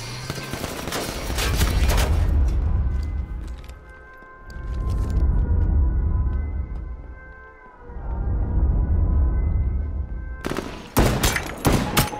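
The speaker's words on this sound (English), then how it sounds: "That is an LMG." Light machine gun fire in the game H1Z1, loud rapid bursts of shots at the start and again at the end, with a sustained tonal wail and low rumble in between.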